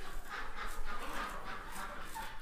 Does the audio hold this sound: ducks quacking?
yes